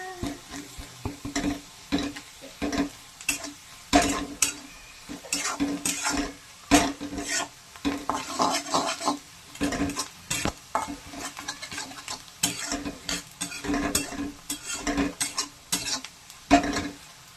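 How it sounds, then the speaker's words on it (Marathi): Masala sautéed with coconut in a pan for mutton sukka, busy rhythmic scraping and clinking of a spatula against the pan over an ongoing sizzle, close and fairly continuous throughout with no voices. "आणि मस्त मसाला परतून घेऊ ह्याच्यामध्ये"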